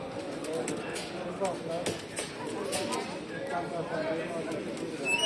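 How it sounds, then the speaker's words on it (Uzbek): Pigeons at a pigeon market cooing in low, murmuring bursts, partly masked by steady crowd chatter and nearby voices throughout. "Mana kaptar, go'zal ekanlar shohnada."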